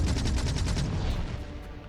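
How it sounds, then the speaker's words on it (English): Rapid bursts of explosions in the video game Factorio crackle in a fast rattling series, loud at first and then tapering into a fading rumble, with no talk. "Oh boy, the big explosion sounds are really cool."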